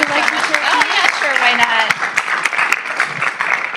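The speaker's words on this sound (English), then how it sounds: "If we can please give her a big round of applause" An audience at a city council meeting claps with sharp, distinct hand strikes, moderately loud and close. A voice talks over the applause for most of its length.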